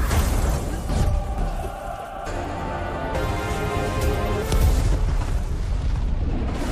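A deep rumbling boom from a house explosion in the film The Ghost (2022) rolls out with heavy low-end roar and crackling debris, sustained and swelling again near the end.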